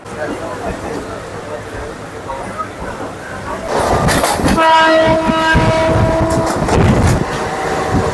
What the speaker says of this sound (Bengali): ছেড়ে দিয়েছে ছ নম্বর প্ল্যাটফর্ম থেকে কৃষ্ণনগর লোকাল